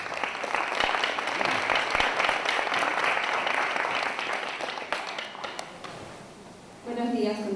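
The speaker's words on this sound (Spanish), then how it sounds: "La recibimos con un fuerte aplauso." Audience applause welcoming a speaker at a formal event, dense steady clapping for about six seconds that fades out before a voice begins speaking.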